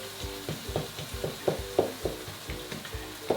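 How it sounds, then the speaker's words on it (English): Tinned tomatoes are broken up with a spoon in a pan. A soft, regular series of squelchy taps and scrapes sounds over a faint sizzle, close by and fairly quiet. "we're going to add the tinned tomatoes. Give those a chop up with a spoon."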